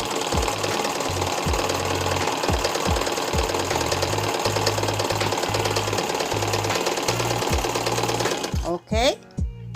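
An electric sewing machine runs steadily under foot-pedal control, its fast mechanical whir and knocking stitch rhythm continuing loud and close for most of the clip before stopping near the end.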